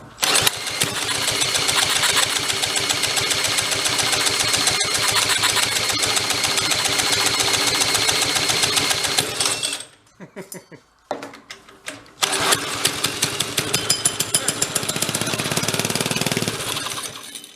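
A Corvair engine on a go-kart, long parked and fed small squirts of fuel, cranks and fires into a loud, rapid, uneven clatter, stalls briefly with a few sputters, then catches again and keeps running.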